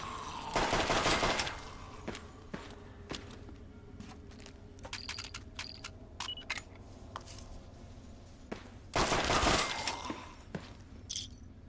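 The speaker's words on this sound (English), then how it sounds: "I need to use my Chinese pistol." Two loud, sharp bursts of pistol fire from a Chinese pistol in the video game Fallout TTW, one at the start and one near the end, separated by quieter in-game clicks and ambient noise.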